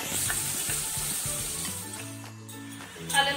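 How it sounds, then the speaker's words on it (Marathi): Onion sizzles in hot oil with mustard seeds and hing, a steady close frying crackle broken by stirring clinks and scrapes, without any talk. "आता मी कांदा चांगला ब्राऊन करून घेणार."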